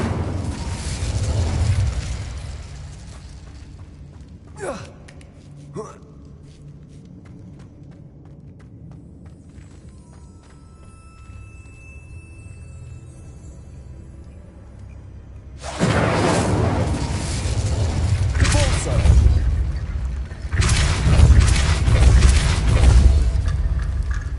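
Two fiery bursts of the Incendio fire spell in the Hogwarts Legacy video game, each a loud, broad whooshing roar lasting several seconds, separated by a quiet stretch with a few faint pops.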